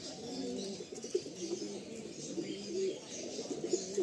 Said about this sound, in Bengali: এটা শাকসবুজ পেয়ার দেখুন ভাইয়ের লফটে